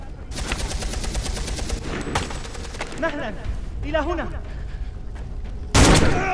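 Gunfire rattles in the PS3 game Beyond Two Souls as dense, rapid bursts of shots that fill most of the moment, with in-game voices mixed among them and a final loud blast near the end.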